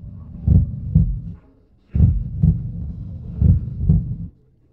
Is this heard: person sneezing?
no